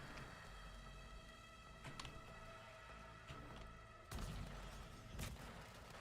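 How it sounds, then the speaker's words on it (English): A wailing siren in the video game Weird West runs throughout, joined by bursts of booming gunfire and explosions that swell louder near the end. "Siren."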